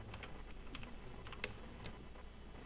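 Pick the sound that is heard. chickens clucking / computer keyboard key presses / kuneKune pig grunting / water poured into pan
computer keyboard key presses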